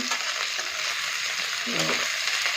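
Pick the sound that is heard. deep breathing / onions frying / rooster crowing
onions frying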